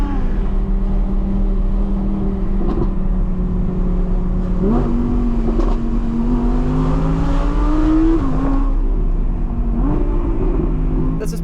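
Naturally aspirated supercar engine, a Corvette Z06 or Audi R8 V10, held at a loud, steady drone from inside the car, with the pitch rising through the revs before dropping back at each of several gear changes.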